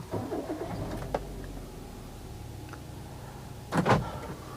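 An automatic 2012 Daihatsu Xenia R is started: a brief whir and clunk early on, then a low idle hum, and near the end a loud burst as the engine catches and settles.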